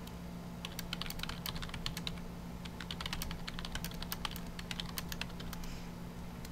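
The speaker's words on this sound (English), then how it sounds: "I'm typing in chat and then it does that." Fast typing on a computer keyboard during a SWTOR game session, a dense patter of light key clicks over a steady background hum, close and without talk.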